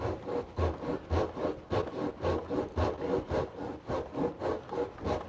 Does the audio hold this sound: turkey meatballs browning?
no